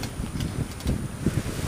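Wind buffets the microphone aboard a sailboat at sea off a Mediterranean cape, with a strong following wind and heavy swell ahead, a brief gusty rumble with fluttering thumps.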